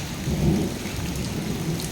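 Steady rain hisses and patters on surfaces with a low rumble underneath, continuous and fairly loud, no voices.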